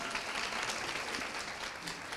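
An audience claps at a business forum, a steady wash of applause that sounds somewhat distant and even throughout, with no voices.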